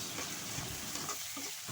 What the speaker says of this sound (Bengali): বাটা মশলাগুলো একটু ভাজা ভাজা করে নিব।